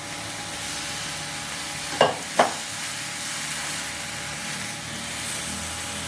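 Mushrooms for a masala tip into a hot pan, two short sharp bursts of clatter and hiss rising over a steady, close frying sizzle that carries on evenly afterward.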